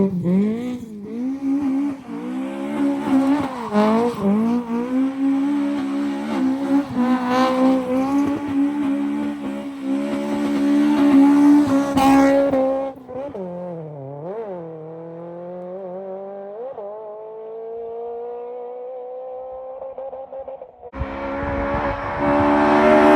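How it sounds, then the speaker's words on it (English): A Toyota AE86 Trueno running its original built AE86 engine drives loud and close, revs rising and falling in steady harmonic sweeps, easing into a lower pull before a burst of noise near the end. "This has its original AE86 block, and this thing is properly built and properly quick."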